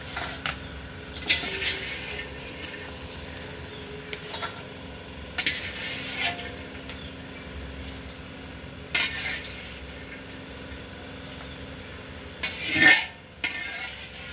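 Lentil dumplings (bori) fry in oil for sukto, with a low continuous sizzle under repeated stirring scrapes and light clinks of a utensil against the pan, close and fairly quiet, louder near the end.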